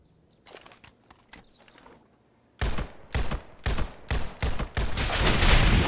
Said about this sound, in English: No, that's a grenade.